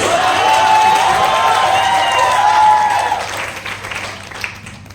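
A crowd at a bank PO training cultural fest applauds and cheers as a performer named Aman is called to the stage. The clapping is loud and dense, with a whistle-like tone over it for about three seconds before it thins out and fades.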